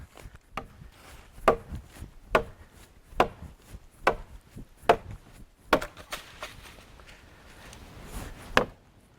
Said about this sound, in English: If you actually had to go out and chop timber down like that, you'd work up a sweat